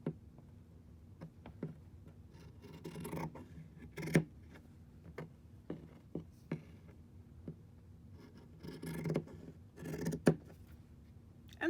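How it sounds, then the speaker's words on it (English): Quiet, intermittent snips and rustles of scissors cutting through polar fleece, with short bursts of cutting separated by pauses. "now with my scissors, I'm just going to cut along those lines"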